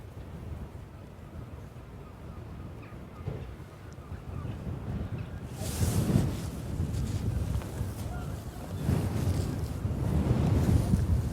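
Gusty wind buffets the microphone outdoors on the coast at St Ives, a steady low roar that swells into stronger gusts about halfway through and again near the end, with no talk.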